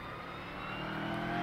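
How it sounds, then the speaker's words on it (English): A GT3 race car engine revs up toward a corner in a racing game, a faint steady engine drone climbing slightly in pitch and loudness over a brief moment, with no voices. "Revs up into that first corner."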